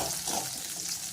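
Onions frying in a pan for kottu, a steady close sizzle and crackle of hot oil with faint stirring, continuous and fairly quiet, no voices.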